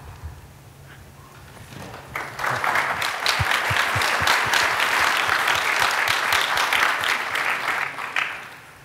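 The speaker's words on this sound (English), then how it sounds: "That applause first was Linda" Conference audience at the 2014 Red Hat Summit breaks into sustained applause, rising after a quiet opening to a dense, steady clapping from a large crowd that holds for several seconds before tapering off.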